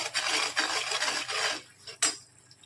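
Spoon stirring garam masala into a garlic methi curry in a pan, several close scraping and rubbing strokes against the metal for about a second and a half, then a short sharp clink near the end.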